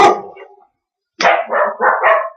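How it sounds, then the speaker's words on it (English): A dog barks once, then after a short pause lets out a quick run of four sharp barks, close and loud. "I'm sure you guys have been listening to the dogs bark"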